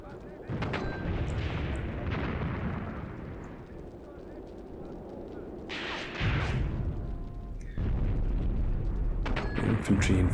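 Mortar shells burst in Graviteam Tactics: Mius Front, heavy booming impacts rolling under a continuous din of battle, with someone talking over the gunfire.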